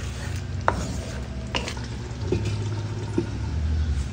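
Macaroni being stirred in a covered pan, with a few sharp scrapes of the spoon against the metal over a low, steady simmering hiss.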